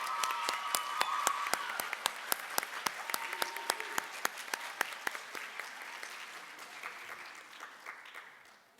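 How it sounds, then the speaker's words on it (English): Applause for student artists at a high school fine arts festival: a scattered audience clapping with distinct, sharp individual claps standing out, gradually thinning and fading toward the end. "Let's give these fine artists a round of applause."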